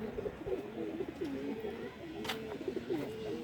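Racing pigeons from a 31-kilo tournament flight in Tongi coo steadily in soft, rhythmic throaty rolls, close by, with faint background noise and a brief higher rustle midway.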